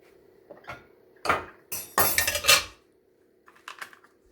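Metal lids set down on cooking pots: several clattering clinks and scrapes, including a longer rattling contact in the middle, then a few light taps near the end, close by in a quiet kitchen.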